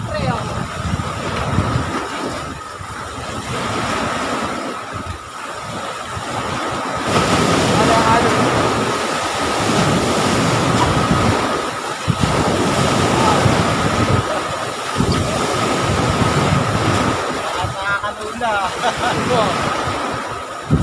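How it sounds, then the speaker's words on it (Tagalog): Big ocean waves crash and churn against a shore at a fishing spot while strong wind buffets the microphone, a loud continuous roar that swells and surges over about twenty seconds. "Sobrang lalaki ng alon at saka malakas yung hangin."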